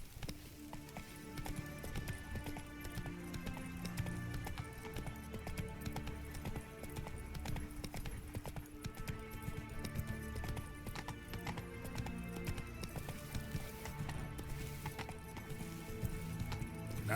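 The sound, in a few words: horse galloping, Roach in video game The Witcher 3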